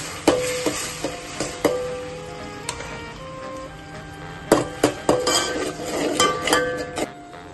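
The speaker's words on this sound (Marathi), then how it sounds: "आपला कांदा, टोमॅटो, लसूण आणि मिरचीची जी पेस्ट आपण यामध्ये टाकलेली आहे ना, तर त्याचा कलर ना असा होईपर्यंत त्याला फ्राय करायचा." A paste of onion, tomato, garlic and chilli goes into plenty of oil for chicken masala curry, heard as a string of metallic clinks and scrapes of a spoon against the pan over a soft background of frying.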